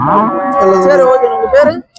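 Cattle low at Seenapuram cattle market, a close, loud, drawn-out moo that fills nearly the whole two seconds with strong tonal harmonics before breaking off abruptly.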